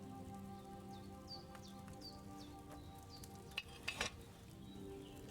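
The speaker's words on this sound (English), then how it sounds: "Hear that bubbling? It's boiling." Wine bubbling and simmering in a cauldron over a flame in the video game Kingdom Come: Deliverance 2, a steady frying-like fizz with soft pops under faint ambient tones and a brief louder clatter near the end.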